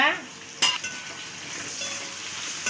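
Onions sauté in a pan for a chicken dish, making a low steady sizzle near the mic, broken early by a sharp clink of a spoon against the metal pan, then a softer stirring hiss.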